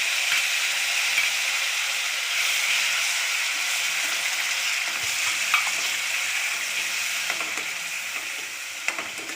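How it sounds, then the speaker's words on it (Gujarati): Chopped onions sauté in a hot pan for moong masala, a steady close sizzle and hiss with a few faint scraping stirs near the end. "હવે એને સાંતળી લઈશું. એમાં એડ કરીશું ડુંગળી"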